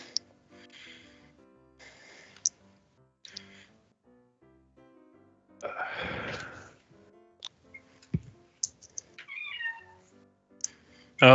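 An angry house cat shut in a room meows and snorts in short, scattered bursts, with one longer harsh, hissing outburst midway and a sharp final cry, close and fairly quiet against near silence.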